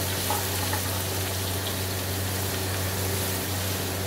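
Onions sizzle steadily in a hot pan as they fry and start to brown, a constant close hiss with a low hum beneath and no talking.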